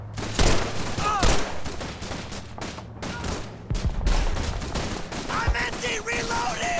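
Dense gunfire from a World War II battle in Call of Duty 3, with rapid bursts of rifle and machine-gun shots cracking close and loud throughout, overlapping into a continuous fusillade with occasional shouted voices.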